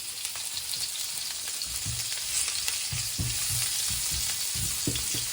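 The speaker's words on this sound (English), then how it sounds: "It's a small onion, and they're going to sizzle along with" Onions sizzle and crackle in a hot frying pan, a continuous close hiss with occasional soft stirring bumps.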